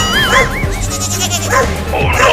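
In a desi cartoon comedy, a young goat kid bleats in loud wavering cries while a dog barks close by. Background music runs under both animals, and no one speaks.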